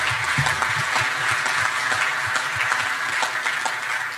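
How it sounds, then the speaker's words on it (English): Sustained clapping from a convention audience at a young achievers award presentation, a dense and even roar of many hands that continues steadily without speech. "another round of applause."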